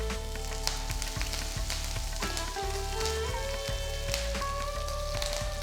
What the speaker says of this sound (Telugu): 3 టీ స్పూన్ల నూనె పోసి నూనె వేడైన తర్వాత దీంట్లో కొద్దిగా మినపప్పు, జీలకర్ర, ఆవాలు, నెక్స్ట్ ఒక 2-3 ఎండుమిరపకాయలు కట్ చేసి వేసి కొద్దిగా కరివేపాకు వేసి